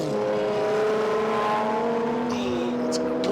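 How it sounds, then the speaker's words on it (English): A race car with a straight-six XK engine roars past during a historic racing event, its steady, loud engine note holding and then shifting pitch as it goes by. "Straight 6XK engine, one of the classic engines of all time."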